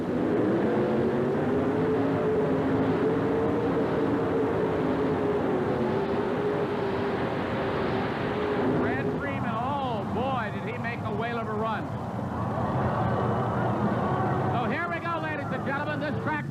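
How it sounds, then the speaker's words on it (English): Supercharged modified pulling tractor roaring at full throttle during a 1988 Birmingham tractor pull, a loud sustained engine drone with a crowd and a commentator's voice over it in the second half. "Watch that right hand. That throttle goes down."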